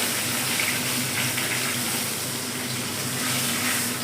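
Curry leaves sizzling in hot oil in a wok, alongside dried red chilli and panch phoron, a continuous close hiss and crackle that stays even from start to finish, with no talking.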